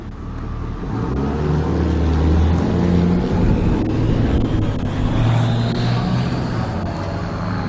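Motors of a Quantum 1103 Ultra power wheelchair with a 5-inch seat lift drive along, a loud, steady low rumble and whir that continues without pause for several seconds.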